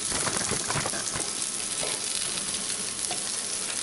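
Stovetop biscuits made from scratch sizzling steadily in a hot pan as they are flipped, a dense close frying hiss with faint soft knocks of turning.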